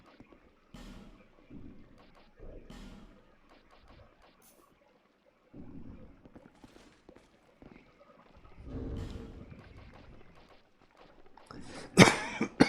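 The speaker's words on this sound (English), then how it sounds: "excuse me, that was a cough." A single person coughs once near the end, a sharp close burst after quieter scattered sounds, apparently during a Dark Souls 2 play session on PS3.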